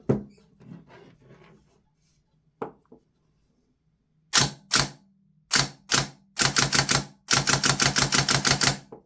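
Quiet mechanical clicks and handling noises, then a tuned Silverback MDR-X airsoft gearbox test fires in bursts, a few short volleys followed by longer sustained rattling strings, loud and close.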